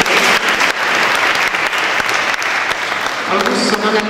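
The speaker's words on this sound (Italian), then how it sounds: "Facciamo un applauso." Loud, close applause fills an award ceremony audience hall, dense clapping with sharp individual claps that tapers slightly near the end as a faint voice emerges.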